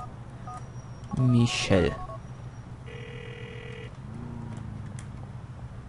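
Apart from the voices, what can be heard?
phone dialing and ringing in video game GTA IV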